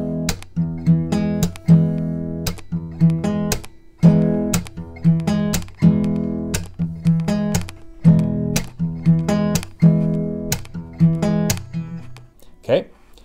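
Acoustic guitar strumming the pattern for a song, steady rhythmic down-and-up chord strums with sharp percussive accents, close and alone, ending on a fading chord.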